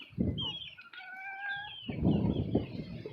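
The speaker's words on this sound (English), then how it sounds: "There's the speckled chicken." A chicken calls up close, a drawn-out cackling note among shorter clucks, over bursts of rustling and scuffling noise with no talking.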